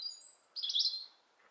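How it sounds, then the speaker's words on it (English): Small birds chirping in a back yard, a few bright high tweets and a short trill, faint and somewhat distant, with no voices over them. "Hear the birds?"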